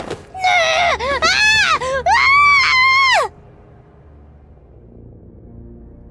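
Deafening scream of a winged aswang in a Filipino horror tale: several long, piercing, wavering shrieks in quick succession, very loud and close, then sudden quiet.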